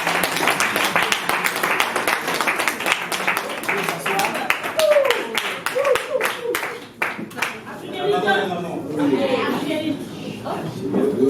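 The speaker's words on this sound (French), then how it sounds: "On applaudit pour les dames." A school audience applauds for the ladies of a maternal school section, a burst of sharp hand claps from a gathered crowd followed by chatter and speaking voices over the tail.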